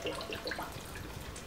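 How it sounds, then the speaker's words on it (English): Evaporated milk pours from a can into a crockpot while making macaroni and cheese, a soft continuous liquid splash and gurgle that is fairly faint and heard alone. "And you just pour all of that evaporated milk in there."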